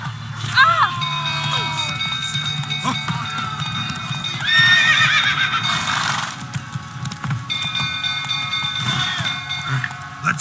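Horse whinnies and hooves clip-clop in The Witcher 3 as a castle burns, a neigh near the start and a louder burst midway over steady hoofbeats, with voices shouting throughout.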